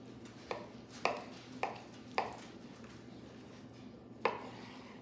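Knife cutting steaks from a smoked ribeye roast on a board, five separate firm chops spaced unevenly over a steady low background hum, close and fairly quiet.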